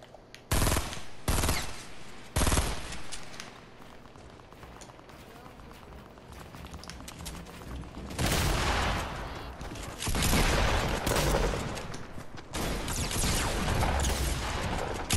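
Pump shotgun gunfire in a Fortnite-style battle royale video game, a few loud isolated blasts early on and a denser burst of firing later, mixed with game noise and a player talking throughout.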